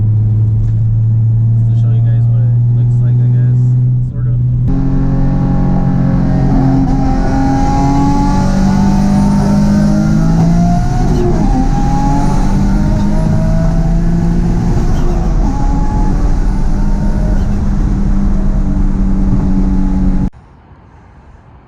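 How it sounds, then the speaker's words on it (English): A Nissan 350Z with a rear-mounted turbo accelerates hard through a second gear pull on a freeway, its loud engine drone rising steadily in pitch for about fifteen seconds before cutting off abruptly, heard from inside the car. "I'll probably do a second gear pull right now."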